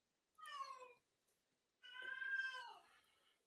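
A house cat meows twice, a short first call then a longer, drawn-out second one, quiet and clear against a silent background.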